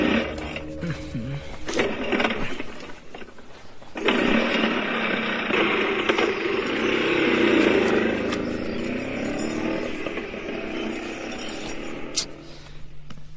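An old scooter with a worn-out silencer runs nearby, its rough, buzzing engine drone rising and holding steady for several seconds before easing off, with some voices around it.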